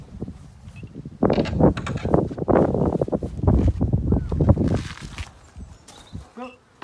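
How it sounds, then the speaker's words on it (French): Footsteps crunch and brush along as someone walks into an apiary with five beehives outdoors, with wind buffeting and a faint insect buzz under the movement. "Et voilà, nous voici dans le rucher."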